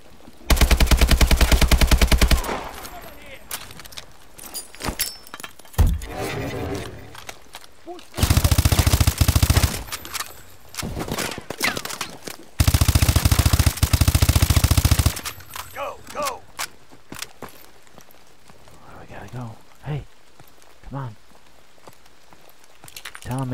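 Bursts of AK assault rifle fire in Call of Duty: Advanced Warfare rip out in several loud sustained volleys, separated by quieter stretches with scattered footsteps and a voice talking.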